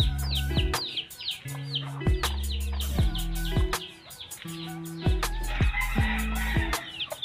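Chickens on a small backyard mini farm with newly hatched chicks, loud repeated clucking and crowing close by, with shrill chick peeps and chirps scattered throughout.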